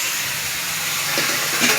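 Bombay duck fish sizzling as it is slipped into hot mustard oil with spices, a steady close hiss of frying that swells slightly toward the end, with no talk.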